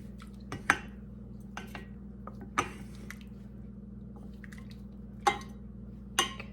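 Softening cream cheese is broken up in a cooking pan over a steady low hum, with a few soft scraping and clinking taps of a utensil against the pan, spaced irregularly and without talk.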